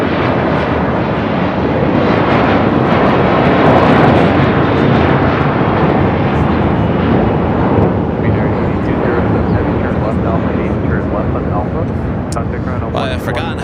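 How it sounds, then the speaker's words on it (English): A JetBlue Airbus A321 departing LAX on runway 25 right roars loud and broadband, a sustained jet rumble that slowly fades with rising whine, while a person talks over it. "JetBlue A321 now taking off on 25 right."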